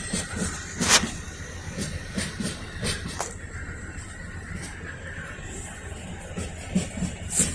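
An Amtrak Northeast Regional train passes through Lynchburg at night, a moderate rolling rumble with scattered clanks and hissy bursts, heard from trackside without talk.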